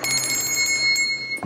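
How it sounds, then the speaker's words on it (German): A doorbell or bell rings with a bright sustained metallic tone and fading harmonics, fairly loud and close, lasting over a second with no talk. "wie wunderbar die Klingel funktioniert"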